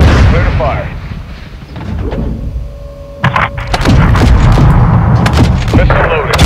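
Air support strike explosions in Call of Duty MW2: heavy booms and sharp gunfire-like blasts burst out in a cluster, loud and close, among battlefield noise and game voice callouts.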